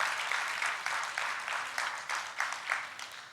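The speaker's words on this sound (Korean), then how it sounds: "우리 다시 한번 큰 박수로 축복해 주시기 바랍니다" A church congregation at a Sunday service claps for 52 graduates, rhythmic unison clapping with regular beats pulsing steadily, moderately loud in a large room.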